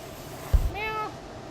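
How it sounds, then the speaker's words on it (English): A gray house cat gives a short, rising meow at home after a brief thump, faint over a steady background hiss. "Hey, Gray Kitty, you coming down?"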